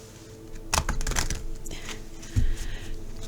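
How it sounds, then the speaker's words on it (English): A deck of tarot cards is riffled in a quick burst of crisp, papery clicks, with a second short flutter a moment later, close by. "let's shuffle this one more time."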